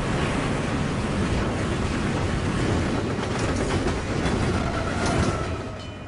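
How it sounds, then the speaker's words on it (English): A runaway train, completely ablaze, rushes past a lowered crossing gate in a movie scene, giving a loud, continuous roar of rolling wheels and rushing air with a faint rhythmic clatter and no speech. "a train goes through, but it's a runaway train that's completely immolated"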